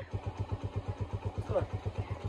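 A motorcycle engine idles nearby with a steady, rapid, even pulsing throb at moderate loudness, and a brief voice sounds over it.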